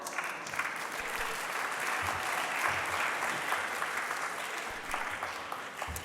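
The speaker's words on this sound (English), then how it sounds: "please give it up with a warm welcome and applause for Guimarães and Paulo Machado." A conference audience applauds steadily for several seconds, a dense, even wash of clapping with no voices over it.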